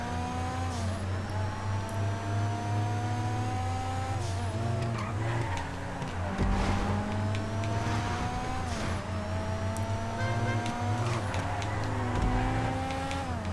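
Sports classic race cars in GTA 5 roar through a video game race, engines revving up and down through gear changes with tire squeals and skids, loud and continuous.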